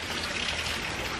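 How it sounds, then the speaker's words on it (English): Steady rain falling outdoors as a hurricane approaches in Florida, a continuous close hiss like a light stream or trickle with no voices. "It's raining out here, and I don't want my camera to get wet"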